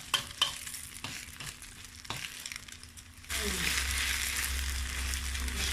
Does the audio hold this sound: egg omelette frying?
yes